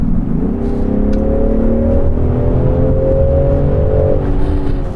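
A Land Rover Defender 110 in sport mode accelerates, its engine holding a steady, loud drone that rises gradually in pitch over several seconds with no talk.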